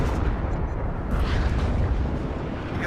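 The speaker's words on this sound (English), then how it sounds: "he is bringing in lots of rocket artillery" Rocket artillery barrage in the video game WARNO, a dense continuous rumble of distant blasts and booms rolling on without pause.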